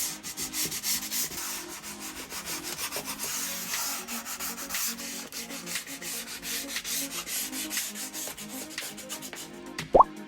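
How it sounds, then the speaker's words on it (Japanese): Sandpaper rubbed over the plastic surface of a 1/32 Italeri F-35A model, a continuous close scratchy back-and-forth rasping in quick steady strokes, ending with a small sharp knock. "これからサンドペーパーでこの表面をならしていきます。"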